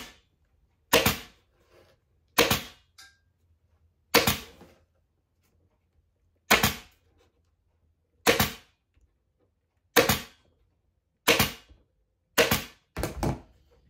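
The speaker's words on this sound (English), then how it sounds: "Then I'm going to staple it." A staple gun fires into tacking card on a cornice valance being upholstered, nine sharp, loud snaps spaced a second or two apart, the last two in quick succession, with near silence between shots.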